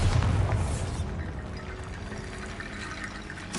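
A Bombarda spell explodes in the video game Hogwarts Legacy: one loud, deep boom at the start that fades into a rumbling, watery wash before a short burst at the end.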